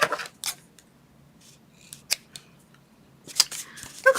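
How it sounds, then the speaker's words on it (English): Scissors snip the paper tails of a paper craft project in a few short, close crisp cuts scattered across a quiet room, without any talk. "I'm going to cut these tails."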